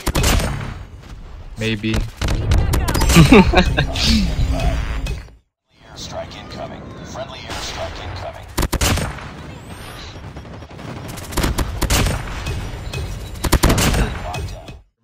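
Bursts of AS VAL rifle gunfire in a video game shooter, rapid crackling volleys that come in clusters with short gaps between them, loud and near, while someone talks briefly over the action.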